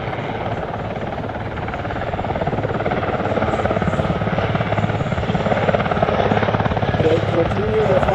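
A Super Puma helicopter flies backwards in a display at an airshow in Leszno, its rotor beating in a loud, steady, unbroken drone that grows slightly stronger throughout.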